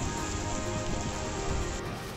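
Heavy monsoon rain pours down in a steady, dense hiss that stays loud and constant throughout, with no voices over it and a slight easing at the very end.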